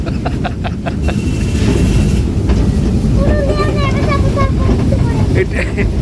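A small park ride train rumbles along steadily with clattering wheels, while voices chatter and call out nearby and a brief whistle-like tone sounds.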